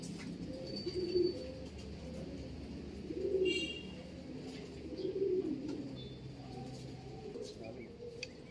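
Pigeons cooing in a loft, soft low rolling coos repeating every couple of seconds against a steady background murmur, with faint chirps and distant noise around them.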